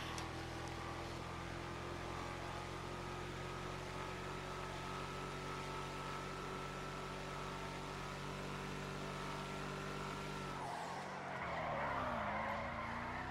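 A Declasse Yosemite in GTA Online is floored, its engine droning steadily with layered harmonic tones for about ten seconds before the pitch shifts and a rougher burst of noise takes over near the end.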